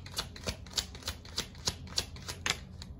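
Tarot cards shuffled by hand in a steady riffling rhythm, about ten crisp snaps spaced roughly a third of a second apart, close and clear with no talking over them.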